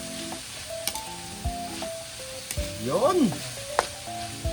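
Pechay stems stir-fried in a pan, a loud steady sizzle with scraping stirs and a few metallic clinks, accompanied by a brief spoken exclamation.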